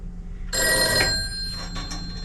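An old telephone bell rings in a single loud burst after a number is dialed at a telephone museum, bright metallic ringing near and clear with a quieter tail, no voices.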